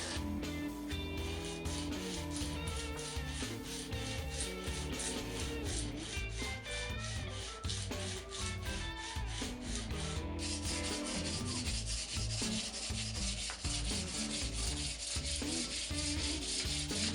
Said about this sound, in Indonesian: Amplas semua fret tanpa penekanan dari ujung ke ujung fingerboard.